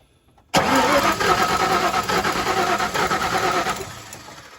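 Ford 5.8L 351 Windsor V8 cranking over with its starter solenoid jumpered, a sudden loud start then a steady, rapid churning drone close by.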